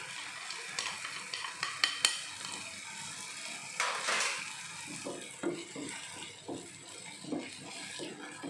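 Sambal made with salted jambal roti fish is stirred in a pan, the spoon scraping and clacking in uneven bursts over a soft, steady sizzle, with a few sharper knocks early on.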